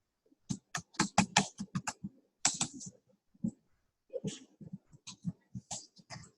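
Typing on a computer keyboard, close and fairly quiet, with quick bursts of key clicks separated by short pauses and no voices.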